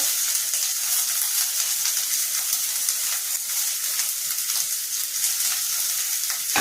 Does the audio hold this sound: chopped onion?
yes